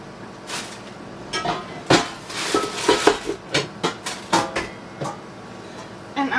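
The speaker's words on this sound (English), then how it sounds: "So let me dig out another pot." Clattering rummage for a cooking pot in a low kitchen cupboard: a close, irregular run of metallic clanks, knocks and scrapes as pots and pans shift against each other, with no talking.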